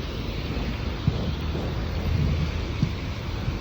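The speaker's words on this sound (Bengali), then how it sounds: "বাইরে প্রচুর পরিমাণে বৃষ্টি গাইস, দেখেন প্রচুর বৃষ্টি" Heavy rain falling around a bus stop, a steady dense wash of noise with low rumbling undertones and a couple of brief soft thumps, continuous and fairly close, with no voices.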